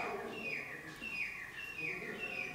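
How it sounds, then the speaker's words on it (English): A bird calls repeatedly with short, rising chirps spaced about every half second, faint and distant against a steady background hiss, outside at night at Bhangarh Fort in India. "I can hear a bird out there"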